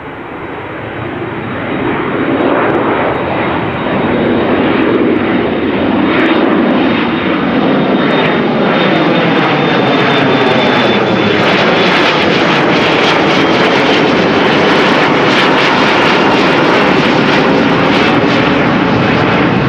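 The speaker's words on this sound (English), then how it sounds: "Transavia A321 to Ibiza, also coming this way" A Transavia Airbus A321 jet flies past at Amsterdam Schiphol, a loud, steady, broadband roar that swells in the first seconds and then holds strong with a faint whining tone, no voices.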